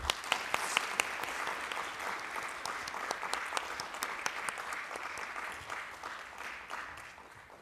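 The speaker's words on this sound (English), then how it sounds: "Please give him another round of applause." Steady applause from a conference audience at a welcome ceremony, dense clapping that starts with a few sharp claps and gradually thins out slightly toward the end.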